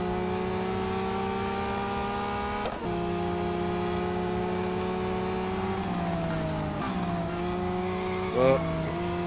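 A race car in the mobile racing game Real Racing 3 holds a steady, high-pitched engine drone at speed, shifting pitch through gears with a brief tire squeal near the end and no talking.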